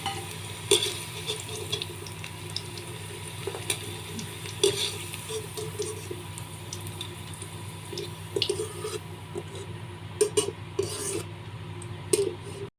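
Soybean chunks frying in hot oil, with a continuous bubbling sizzle and intermittent stirring clatter that grows busier toward the end, close and moderate, no speech.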